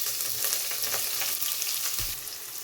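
Onions frying in hot oil with chana dal and curry leaves, a close, steady sizzling crackle with a few stirring knocks and a low thump near the end, no voices.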